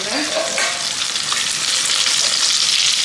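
Brinjal pieces sizzle and crackle steadily in hot oil in a pan for a prawn curry, a dense continuous fry hiss with faint stirring, no voices.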